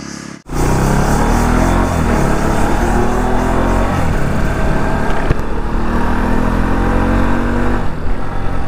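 Steady engine drone of a motorcycle cruising along a road, loud and close throughout, with a brief dip right at the start.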